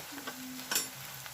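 Soft sizzling of lilva (green pigeon pea) kachori filling frying in a pan with chili powder, a brief stirring scrape, close and fairly quiet, no talking.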